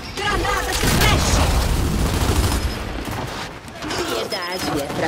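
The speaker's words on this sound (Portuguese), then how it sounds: "Granada de flash!" Flash grenade blast and gunfire in the video game Gears 5, a loud booming burst with rattling shots, mixed with in-game voices.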